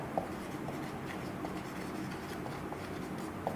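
Pen or marker writing on a board during a maths lesson, a quiet continuous scratching with light taps as strokes begin and end, no talking.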